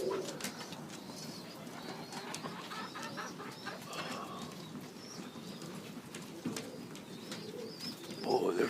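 Racing pigeons in a loft holding thirteen birds coo softly and continuously, several low throaty calls overlapping at close range with faint rustling and no talk.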